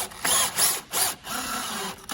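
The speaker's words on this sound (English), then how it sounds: "To save time, you can just pre-drill a few millimeters into the surface" A power drill bores a few millimeters into MDF board in short bursts, three close, loud whirring runs separated by brief pauses, with no talking.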